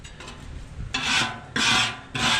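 Scraper strokes rasp across a Blackstone griddle top, three short, bright scraping passes in a row, the last two louder, with no talk.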